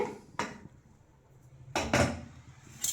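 A few sharp metallic clanks and a clatter of a pressure cooker lid being opened after cooking for sambar, close by, separated by quiet pauses.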